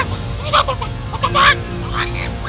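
Giant monster chicken from a Power Rangers episode lets out several loud, honking clucks and squawks in uneven bursts, close and harsh, over a low rumbling background.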